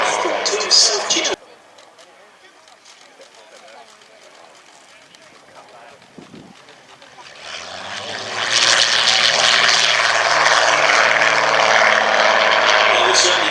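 A propeller aircraft flies at the Shuttleworth airshow at Old Warden, its engine drone swelling from faint to a loud, steady roar while a commentator talks over the public address.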